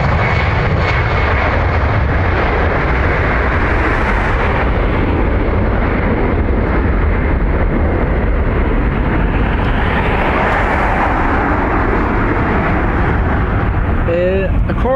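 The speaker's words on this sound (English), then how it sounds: "that BizJet is off to Teterboro" A business jet takes off at Dublin Airport's north runway bound for Teterboro, a loud, steady broadband engine roar that swells and holds throughout, with faint talk at moments.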